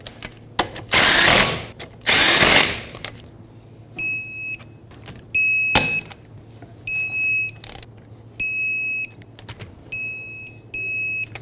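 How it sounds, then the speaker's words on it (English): Wheel lug nuts being tightened on a 2003-2008 Toyota Corolla, with a burst of close mechanical ratcheting followed by a series of short, evenly spaced high electronic beeps alternating with clicks. "Put back all 5 of your lug nuts, bottom them out, and then torque them to 76 foot-pounds."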